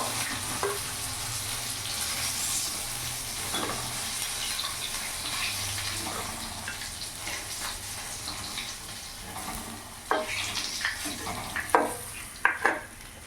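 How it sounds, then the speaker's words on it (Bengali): Pieces of rohu fish fry in hot oil with a steady, close sizzle, and a cluster of sharp spatula scrapes and clatters near the end as the fish is lifted out. "মাছগুলো লাল লাল করে ভেজে নিয়েছি এবার আমি নামিয়ে ফেলবো"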